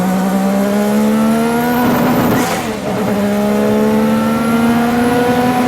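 A Ferrari F1-87 Formula 1 car with a turbocharged V6 screams at high revs, loud and raspy, dipping briefly as if shifting or lifting around the midpoint before climbing again, with no voices.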